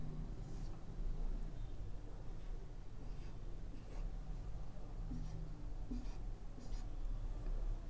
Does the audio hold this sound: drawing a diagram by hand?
yes